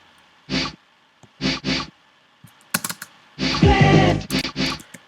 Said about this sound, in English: I also took this one weird sounding like shaker.